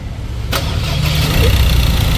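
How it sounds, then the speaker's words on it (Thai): An engine on a test run catches with a short burst, then settles into a steady, even idle that stays loud and close. "เครื่องยนต์เดินนิ่งไหมอ้าวทดสอบ"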